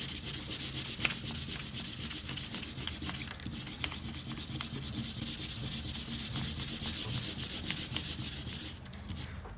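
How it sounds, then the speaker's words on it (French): A rubber eraser scrubs pencil construction lines off drawing paper, making a continuous, close, fast back-and-forth rubbing that stays steady for nearly the whole stretch before stopping briefly at the end. "on peut gommer nos traits de construction"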